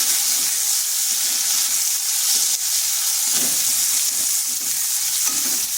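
Chopped onion from one medium-sized onion sizzles loudly and steadily as it fries in hot oil, a dense, continuous crackle close up with no voices.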